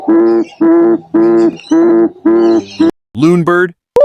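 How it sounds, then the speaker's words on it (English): A tawny frogmouth gives a run of five evenly spaced, hooting calls, followed by a couple of rougher, rising notes with brief silent gaps. The calls are close and clear, with no other sounds. "Tawny frogmouth."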